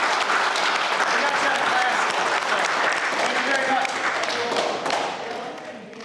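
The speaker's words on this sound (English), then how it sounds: "let's give them a round of applause" A round of applause for students Wyatt and Jake at St. Elizabeths, dense clapping from a room of people at full strength before tapering off near the end, with a voice briefly heard over it.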